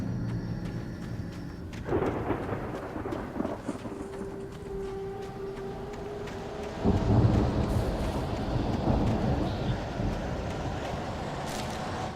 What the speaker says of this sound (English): The storm raged on as the Anderson brothers walked unsteadily